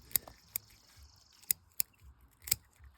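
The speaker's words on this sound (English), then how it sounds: "Snip around a little bit, get down in here, and you can feel your scissors." Scissors snipping while skinning a rock bass fish for taxidermy, five sharp crisp close-up clicks spaced irregularly over about three seconds, alone against a quiet background.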